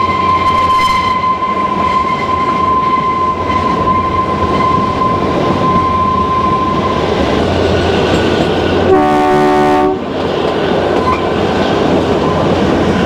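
Kalka–Shimla toy train running on the mountain narrow-gauge line, a steady loud rumble of wheels and carriage with a sustained horn tone early on and a brief louder horn blast near the end, no talk.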